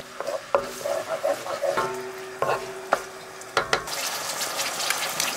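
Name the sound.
stirring sauce in a pot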